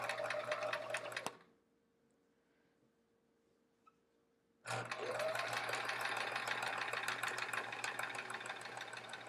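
A sewing machine chain pieces a quilt block in a rapid, steady mechanical whir, stops for a few quiet seconds, then starts again and runs continuously at close range.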